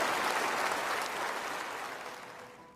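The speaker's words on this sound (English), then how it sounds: "Prince William, future Antichrist, and Princess Kate applauding." An audience applauds in a dense, sustained wash of clapping that starts full and gradually fades over a few seconds, with no talk over it.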